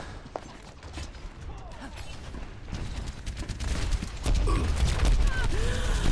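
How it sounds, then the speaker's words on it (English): Dense rocket barrage from an Overwatch esports match, a constant stream of blasts and clattering game effects that builds louder toward the end, with commentator speech running underneath. "And here comes the barrage on the top, takes out Ansa."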